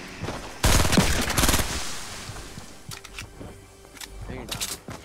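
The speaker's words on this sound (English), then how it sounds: "the guy is gonna shoot the gun" Loud burst of rapid automatic gunfire in the video game 14 Days, lasting about a second, followed by fainter scattered shots and clicks while players talk.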